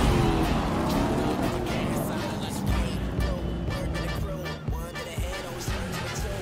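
A car engine in the racing video game The Crew 2 drones steadily and loudly throughout, with shifting engine tones and brief surges as the car drives, over faint background game sound.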